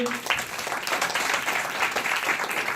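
A church congregation claps together in sustained applause, a dense wash of hand claps filling the room, steady and moderately loud throughout without a break.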